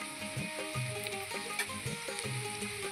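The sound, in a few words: chopped garlic frying in a pan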